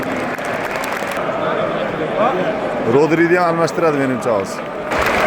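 A football stadium crowd claps and cheers as players are substituted off, the applause a steady broad roar running beneath a commentator talking over it.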